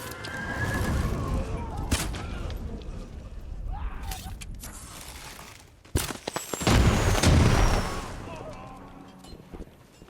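A horse neighs amid battle sounds in the samurai video game Ghost of Tsushima, with booms and clashing effects rising and falling, and a voice talking over the game audio.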